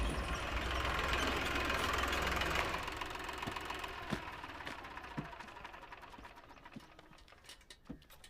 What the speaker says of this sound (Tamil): இதோ வண்டி வந்துருச்சுங்கய்யா.